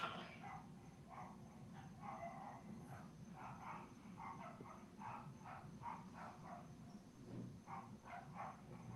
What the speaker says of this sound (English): Is that Cooper barking at the back?